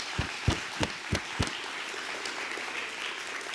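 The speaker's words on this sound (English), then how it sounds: "join me in thanking them again and giving them a big applause" An audience applauds at a research presentation event: a burst of clapping with several sharp near claps in the first second and a half, then a steady, softer patter of hands continuing to the end.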